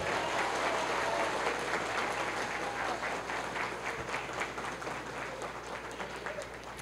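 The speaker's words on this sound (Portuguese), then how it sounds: "Vamos, salva de palmas aos dois." Wedding guests applaud the newly married couple, a steady wash of dense clapping that stays fairly even before tapering slightly toward the end, with faint murmuring beneath.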